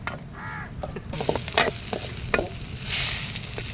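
Onions and tomatoes fry for a root soup, a steady sizzle in the pan with scraping stirring strokes and a brighter hiss building near the end, close and fairly loud.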